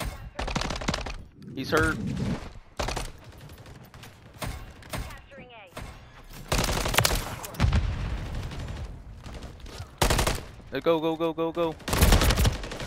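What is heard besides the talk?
gunfire from a video game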